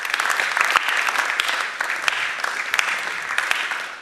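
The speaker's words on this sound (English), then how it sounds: "A round of applause for him one more time, please." A conference audience at a talk on a platform gives sustained, dense applause that stays steady and close for the full four seconds, with no voices rising above it.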